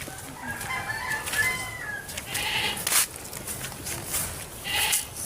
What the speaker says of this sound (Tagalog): Ayan, naghihingi nga ang kambing.